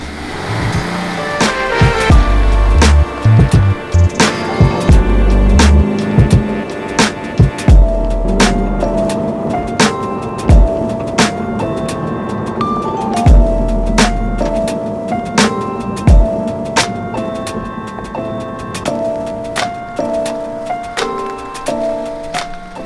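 A manual-transmission new car is driven and shifted through gears on a hill, its engine droning loudly with rising and falling pitch and sharp mechanical clunks and knocks between shifts.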